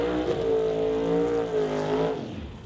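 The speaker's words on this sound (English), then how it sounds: "High rev and burnout for Dale Jansen in that wicked Acadian." A supercharged Acadian door-slammer drag racing car at a racetrack qualifying event holds a loud, sustained high-rev engine drone during a burnout, then the pitch drops and fades as it eases off.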